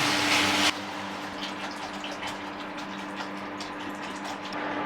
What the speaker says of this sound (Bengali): আমি এখানে এক লিটার পরিমাণ জল দেব